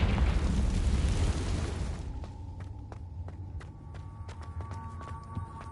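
Explosive Confringo spell detonating in Hogwarts Legacy: a loud roaring blast rumbles for about two seconds, then fades into quieter ambience dotted with light footstep taps.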